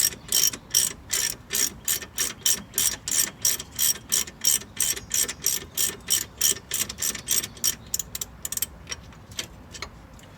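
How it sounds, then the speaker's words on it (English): A hand ratchet loosens a sway bar link nut during a front strut and sway bar link job, giving a fast, even series of loud, close clicks that slows and softens toward the end, with no speech. "since it's already broken here, I'm gonna use just the ratchet"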